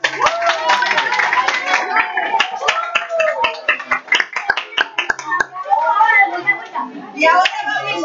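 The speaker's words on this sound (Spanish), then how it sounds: "un aplauso para ustedes" Students at a school music assembly are applauded with a burst of close, sharp hand claps that thin into scattered claps, while voices and children's chatter carry over and around them.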